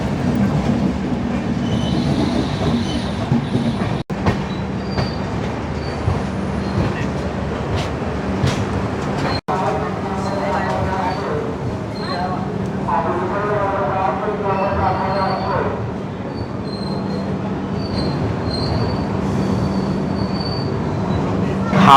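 A passenger train rolls into Santragachi station at night, its wheels clattering and squealing in a loud, continuous rumble with a steady hum, while people's voices come and go over the rail noise.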